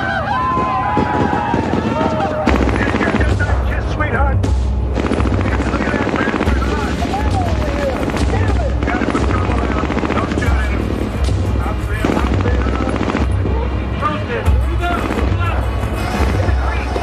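Helicopter in a film battle scene, loud continuous rotor thumping with bursts of machine gun fire and booms layered over it, and shouted voices throughout.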